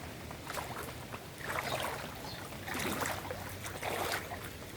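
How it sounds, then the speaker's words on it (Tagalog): Heavy floodwater rushing after about two hours of hard rain, a broad steady roar of moving water with surging swells, close and continuous with no talk. "Yung baha, nakakatakot yung baha."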